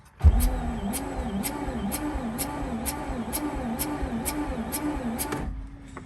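A Mazda RX-8 rotary engine cranks on the starter during a compression test, a steady rhythmic pulsing whir lasting about five seconds, loud and close, then cutting off into a quieter tail.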